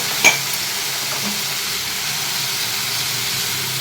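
Brinjal with chilli, turmeric and salt cooks in a pan on high heat, giving a steady sizzling hiss with a brief sharp clink of a utensil near the start.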